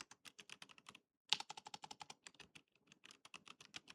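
Someone types an email address on a computer keyboard, fast bursts of crisp close keystrokes broken by a brief pause, with no talking.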